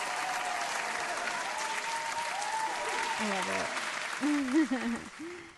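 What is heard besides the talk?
applause on radio show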